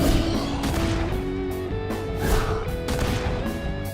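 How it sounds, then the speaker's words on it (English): Gunfire in the video game Persona 5 Tactica: a rapid series of sharp shot bursts and impacts over game music and effects, loud and close. "Alright, I'm gonna shoot all 3 of these guys"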